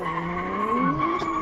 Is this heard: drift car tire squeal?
yes